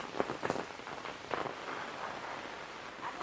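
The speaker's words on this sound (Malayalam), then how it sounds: "നല്ല മഴയില്ലേ." Heavy rain pours steadily over a kitchen vegetable garden, a dense, even hiss with a few louder drops and no voices.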